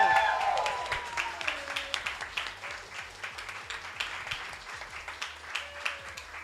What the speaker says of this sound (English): can we get one more round of applause for the entire CHUNIMAI Thailand staff for making this possible?